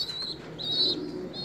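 Young Hünkari pigeon squabs calling close by, short high-pitched chirps over soft low cooing.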